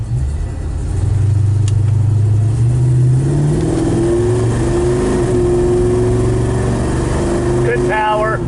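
A 1982 Chevrolet El Camino accelerates through smooth gear shifts on a test drive, its engine note climbing and dropping in steady sweeps, with a voice talking over the cabin noise.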